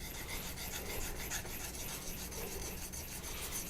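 Convex knife edge drawn across a Naniwa diamond whetstone, a quiet continuous gritty rasping scrape with faint regular strokes, without talk.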